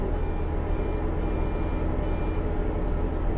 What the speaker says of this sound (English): What's all the beeping for?